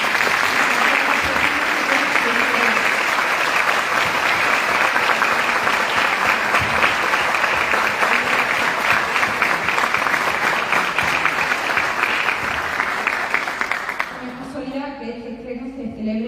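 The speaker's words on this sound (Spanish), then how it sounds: "Me gustaría pedir un aplauso muy fuerte para Emilio" Loud, sustained audience applause for Emilio fills about fourteen seconds as a dense wash of clapping, then drops away while a voice starts speaking over the fading claps.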